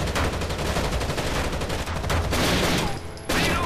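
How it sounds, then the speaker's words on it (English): Rapid automatic turret fire in the video game Rainbow Six Vegas makes a dense, continuous roar of shots. It breaks off briefly near the end before starting up again, loud and without any talking. "There's a guy on a turret over there in that little window. You can see him shooting."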